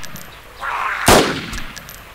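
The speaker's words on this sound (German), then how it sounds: "Ich hab Schüsse" Gunfire in the video game DayZ: a rising rumble, then one loud, sharp shot around the middle of the clip that fades into a short echoing tail.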